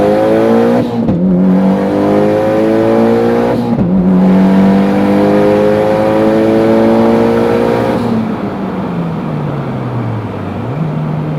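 Mitsubishi Lancer Evolution X on the street doing a hard second-gear pull from 40, engine revving up loud and close in rising sweeps, with two quick gear changes before the revs drop away at the end.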